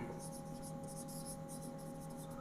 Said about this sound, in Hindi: तो हम लिखते हैं थोड़ा सा डेफिनेशन इसके बारे में